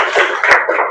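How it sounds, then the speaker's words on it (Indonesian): A few hands clapping together in a classroom of children reading Quranic letters, short loud bursts in a brief uneven patter lasting under a second. "tepuk tangan semuanya dulu"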